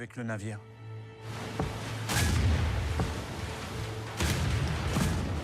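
Naval gunfire and shell impacts during the Bismarck's final battle in the Atlantic: heavy booming blasts with a rumbling, noisy aftermath, two strong hits spaced a couple of seconds apart under a continuous low drone.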